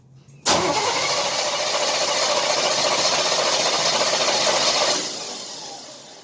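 A 1978 Chevy C10 with a 350 V8 and a freshly fitted Edelbrock intake cranks and roars into a loud, rough, rattly run, holding for several seconds before the engine note drops away.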